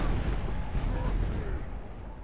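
Cannon artillery fires in a Medieval 2 battle with Empire forces facing ogres, one deep boom followed by dense low battlefield rumble and noise throughout.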